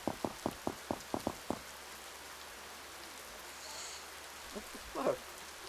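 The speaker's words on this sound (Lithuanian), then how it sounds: "Čia lietus. Kai garsus tas lietus." Rain falls in the video game Unplagued, a faint, steady hiss of drops that runs throughout beneath a quick series of rhythmic thuds at the start, with a short voice sound near the end.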